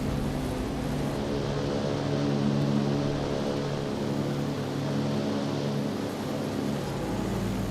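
Steady, droning engine roar of aircraft in the naval combat game Sea Power, a continuous loud hum with strong low tones and no pauses or voices.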